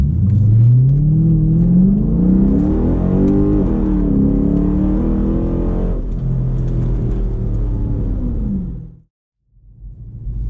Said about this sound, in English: If you got a cammed Hemi with a loud exhaust.